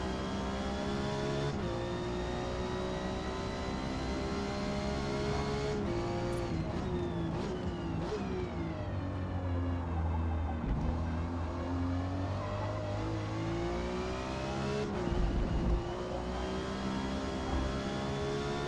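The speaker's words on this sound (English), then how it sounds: "the 90s MX-5 is definitely a beast in this game" A 1990s Mazda MX-5 Miata engine in the Forza racing game revs steadily throughout, with shifting harmonic tones as the car accelerates and shifts gears, loud and continuous with no talk.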